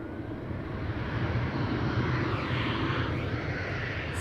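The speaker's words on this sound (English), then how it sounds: "Turkish flight 1953, by the way, A330-300 arriving from Istanbul." Turkish Airlines A330-300 arriving at Amsterdam Schiphol from Istanbul, its jet engines making a loud continuous roar that swells slightly midway as the aircraft passes close by.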